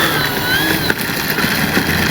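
Electric motor of an E-flite Piper Cherokee RC plane running at steady speed before a full-speed run, a constant whine with a slight blip, close and moderately loud.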